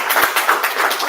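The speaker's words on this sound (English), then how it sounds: "let's give God a hand clap of praise" Congregation at a Baptist men's ministry meeting clapping hands in praise, a steady, dense patter of many hands filling the room, loud and continuous with no talk.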